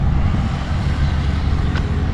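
Cars and trucks roll along a road at the entrance to the historic town of Mariana, Minas Gerais, a steady low rumble of passing traffic at moderate distance, with no one speaking.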